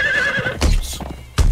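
A horse in the video game Conan Exiles gives a loud, close whinny with a wavering high pitch, then a couple of hoof thuds and a final heavy thump.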